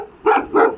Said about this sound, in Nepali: त्यो कुकुर भुकेको है